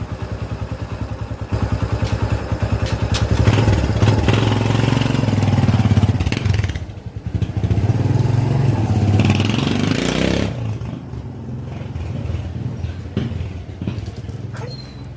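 A motorcycle engine runs right after a service check-up, loud and close, with a steady rhythmic putter that briefly dips near the middle, then carries on with rising revs and fades slightly toward the end.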